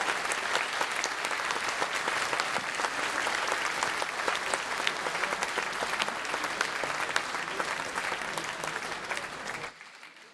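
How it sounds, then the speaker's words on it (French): A crowd in Nice applauds loudly to welcome Fabien Roussel, national secretary, at a political gathering. The sustained, even clapping lasts about ten seconds before cutting off abruptly. "Nous allons l'applaudir bien fort."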